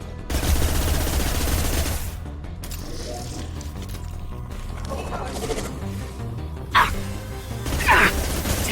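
Sci-fi weapons fire in Mass Effect 2, a sustained rattling burst of rapid shots up front, then sparser bursts and sharp impacts over a low battle hum.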